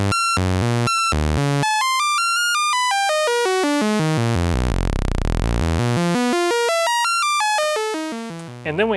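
A Roland SH-7 synthesizer runs sample and hold fed by a triangle wave, giving rapid stepped bleeps that sweep down and back up in a smooth arc, loud and steady, with no voices.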